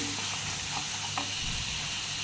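Onion and tomato masala with chilli powder sizzles steadily in hot oil while it is stirred, a dense, continuous frying hiss with faint scrapes of the spoon in the pan, close up and without talk.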